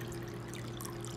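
A little water pours into a pan while chicken chop suey cooks, a soft continuous trickle over a low steady hum, faint and close with no talk.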